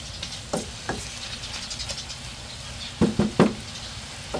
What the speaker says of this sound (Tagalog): Halu-haluin ko lamang po ito.